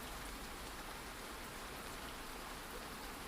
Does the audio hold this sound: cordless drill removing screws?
no